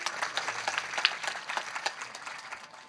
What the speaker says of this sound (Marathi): वाजवा टाळी